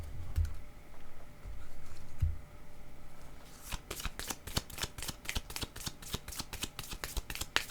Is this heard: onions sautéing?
no